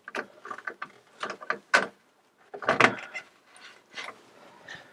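A plastic drain pipe slip nut is threaded on and tightened under a kitchen sink during a garbage disposal install, giving a series of close, brief ratcheting clicks and rubbing bursts with short pauses between.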